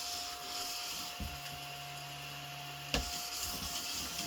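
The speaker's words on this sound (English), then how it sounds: "So I'm just going to hoover, guys." Vacuum cleaner hoovering glitter off the floor while making an artificial Christmas wreath, a steady close motor whine throughout, with a brief low rumble and a sharp knock near the end.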